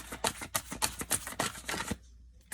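Chakra cards being shuffled by hand, a quick series of crisp riffling flutters close by, then a brief pause and one last soft flick.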